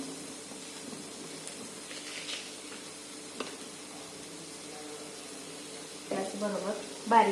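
Finely chopped potatoes with salt and coriander being sautéed in a pan, a soft sizzling hiss beneath someone talking, with stirring scrapes growing louder near the end.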